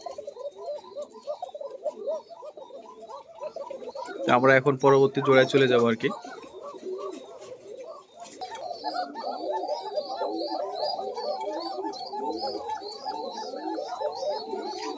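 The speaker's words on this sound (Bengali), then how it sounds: "এই দেখুন কবুতরের ডাক, অনেক চিকন ডাক।" Thin-voiced pigeons coo repeatedly in a loft of breeding pairs, a steady layered chorus of soft calls running throughout, with someone speaking briefly over them partway through.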